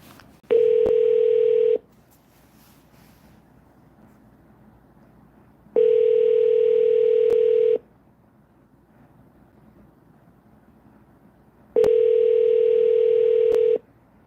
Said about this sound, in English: Let me call Uncle Perry.